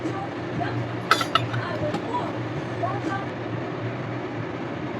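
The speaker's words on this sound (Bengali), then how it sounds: "আবার একবার ঢাকা দিয়ে দেবো।" A metal lid is set onto a cooking pot of Bengali vegetarian spinach chachchari, giving two quick bright clinks over a steady background hum.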